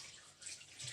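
Filtered tap water runs while food is rinsed in a kitchen, a brief quiet hiss of flowing water.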